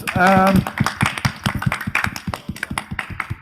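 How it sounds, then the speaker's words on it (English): Applause breaks out at the end of a live Talkaoke talk show in Aberfeldy, a run of sharp, uneven hand claps following a brief spoken phrase. "Round of applause."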